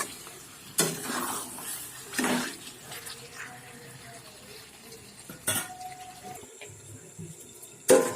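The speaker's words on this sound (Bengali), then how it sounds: "মাংসটা খুব ভালো করে কষে নেব।" Chicken fried dry in a pan with salt, a quiet background sizzle broken by a few sharp scraping stirs of a spatula, close, with no talk.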